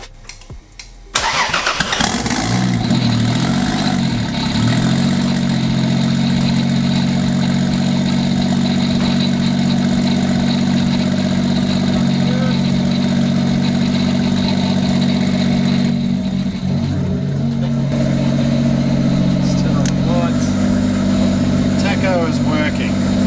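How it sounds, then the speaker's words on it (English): A car running with no exhaust fitted after a coil-on-plug kit install, plugged into the factory GE loom connector; it cranks, catches and settles into a loud, harsh, continuous idle close by for about twenty seconds. "let's start it up and we'll see. There's no exhaust on this thing, by the way, so it's terribly loud"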